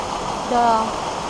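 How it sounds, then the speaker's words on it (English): A waterfall in New Hampshire rushes in a loud, steady hiss of falling water, with a brief voice-like sound rising over it midway. "The noise, I like the noise. I like the water noise."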